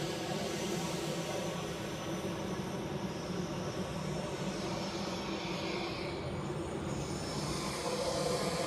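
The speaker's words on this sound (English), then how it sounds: "So here we have a Swiss A320 in Star Alliance livery." Swiss Airbus A320 airliner in Star Alliance livery at Zurich airport on an evening, its steady engine roar filling the scene loud and continuous without a break.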